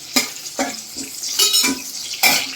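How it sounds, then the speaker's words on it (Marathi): Green chillies fry in a hot pan with garlic and are stirred, giving bursts of sizzling and spoon scrapes at a steady rhythm, close and fairly loud with no talk. "त्याच्यावर मिरची पण आपण छान परतून घेऊ."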